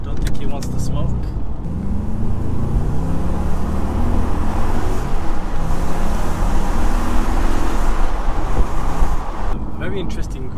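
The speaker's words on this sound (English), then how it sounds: "Very interesting growl to the car" 2004 Audi S4 with a 4.2 V8 heard from inside while driving, a steady deep engine growl blended with road and wind noise, continuous and fairly loud throughout.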